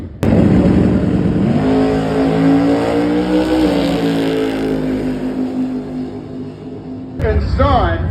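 Drag racing cars launch at Gulfport Dragway, engines roaring loud and close with rising pitch as they accelerate hard for several seconds, then fading before another sharp engine burst near the end.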